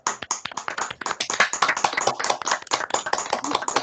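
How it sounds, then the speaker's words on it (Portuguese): Scattered hands clapping for a visiting guest professor after an online lecture, a small group of separate claps rather than a full roar, heard close through open microphones with no talking. "o professor Luiz merece uma salva de palmas aqui da gente"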